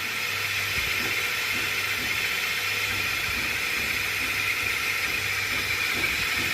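Magnet-powered generator set spinning continuously, a steady smooth hum with hiss across the whole stretch, faint low periodic thumps from rotation, no talking.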